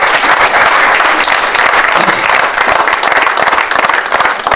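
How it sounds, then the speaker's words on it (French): Steady, loud applause from a crowd at a festival announcement in Saint-Servant, a dense even patter of many hands clapping throughout. "Si vous pouvez applaudir,"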